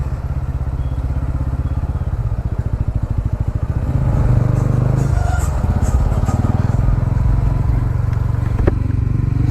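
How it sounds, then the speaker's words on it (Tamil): Heavy road traffic surrounds a TVS Ronin 225 motorcycle on the road to Kodaikanal, with a steady engine drone, rumbling vehicles close by and occasional clatter and horn-like bursts throughout. "ஹெவி டிராஃபிக்கு."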